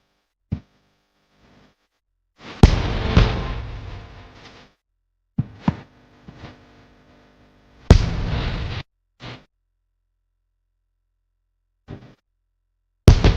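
Fireworks burst in a short midway barrage, with a few sharp isolated pops and two heavier booming blasts that trail off, separated by silences.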